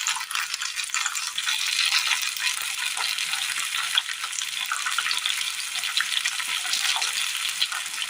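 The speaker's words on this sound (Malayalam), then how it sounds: "ഇനി ഇതിനൊപ്പം തന്നെ നമ്മൾ അരിഞ്ഞു വെച്ചിരിക്കുന്ന തക്കാളി കൂടി ഇട്ട് കൊടുക്കാം." Chopped tomatoes dropped into a frying pan for a Kerala dish sizzle loudly and steadily, a dense continuous crackle with a few faint clinks underneath.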